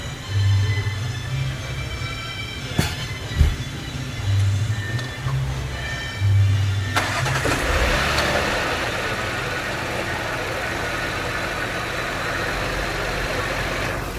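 An Audi Q7 engine cranks and fires up, shifting from a low idle rumble to a steady, even running hum, heard close and moderately loud.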